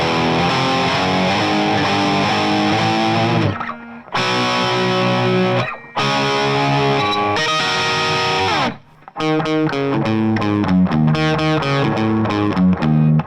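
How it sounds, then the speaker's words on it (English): Heavily distorted electric guitar hammering out power chords, loud and sustained, with a few brief gaps between phrases; no voices. "And then we're jumping back into these power chords."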